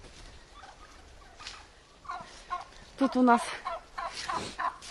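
Turkeys in a winter farmyard gobble in several short, rapid bursts, nearby and growing louder toward the end, while someone briefly speaks.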